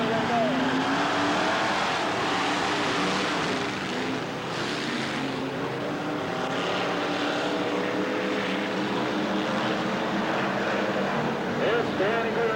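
Street stock race cars roar off the line for a heat at Bureau County Speedway in 1989, several engines blaring together loudly and continuously, their pitch climbing and shifting as the pack accelerates.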